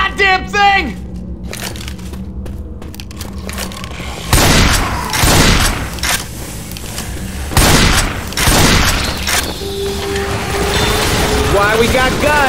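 Gunfire aimed at a Jockey in the video game Left 4 Dead 2: loud, dense bursts of shots and booms come in several waves over a steady game backdrop, with voices calling out between them.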